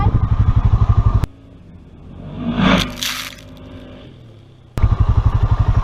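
A Honda's engine chugs in rapid, even pulses, then drops away to a quieter passage with a brief rising swell before the pulsing engine returns loud and near.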